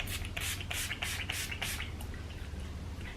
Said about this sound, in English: I'll be going in with Urban Decay's All Nighter Spray just to keep the look